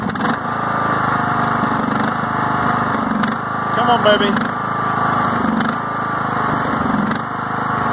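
A yard tractor engine drones steadily and loudly, revving with slight surges in pitch while running a 42-inch snow plow blade, as someone speaks briefly over the noise.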